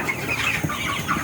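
A Sonali chicken farm shed holding about 2000 birds, 52 days old, gives off a close, continuous mix of clucks and sharp squeals from many chickens at once, with no talk over it.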